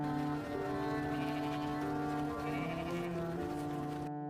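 A flock of sheep bleats in a rapid overlapping chorus of wavering calls, loud and close, before cutting off abruptly.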